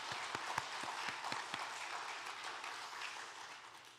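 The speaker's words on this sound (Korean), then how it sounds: "하나님 앞에 감사의 박수를 올렸으면 좋겠습니다" A church congregation at a Sunday afternoon worship service in Andong claps in thanks, a few distinct claps at the start giving way to soft, distant scattered applause.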